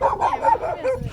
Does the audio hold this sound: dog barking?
yes